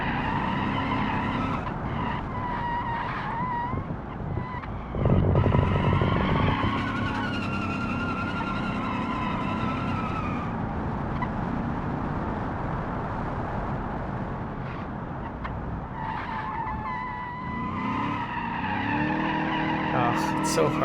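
Car tires skid and squeal under hard braking on a downhill road in the BeamNG driving simulator, a sustained screech over a steady engine drone with a louder burst midway and someone talking throughout.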